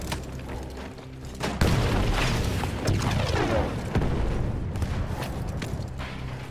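Grenade exploding in Battlefield 1, a sudden heavy boom near the middle followed by a long rumbling, debris-filled decay that fades gradually, close and loud.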